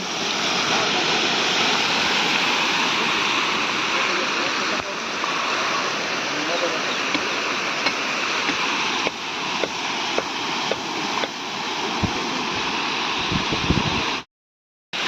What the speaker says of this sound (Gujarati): લાઈનની વચ્ચો વચ આ ફૂટી ગયો છે તો બહુ પાણી વેસ્ટ જાય છે